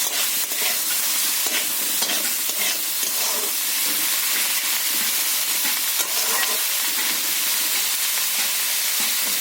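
Green chillies fry with chicken in a pan, giving a dense, constant hissing sizzle with light stirring scrapes scattered across it, loud and close, without any voices.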